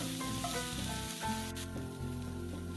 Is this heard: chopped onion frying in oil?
yes